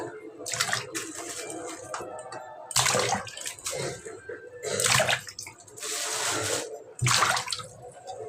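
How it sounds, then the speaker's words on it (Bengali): Whole fresh fish are washed by hand in a basin of water, with repeated splashing and sloshing surges that come and go in bursts. The sound is close and fairly loud, with little else around it. "তো ভালো করে ধুয়ে গোটা গোটা ধুয়ে এখানে রাখতেছি"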